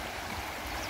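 The clear Psezuapse river babbles in a brief, faint, steady rush of flowing water with no voices.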